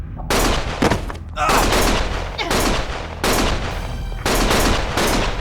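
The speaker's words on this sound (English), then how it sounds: "Stop shooting!" Gunfire in the action game Lost Judgment: several loud bursts of shots and impacts in quick succession, with brief gaps between volleys and a voice faintly mixed in among the shooting.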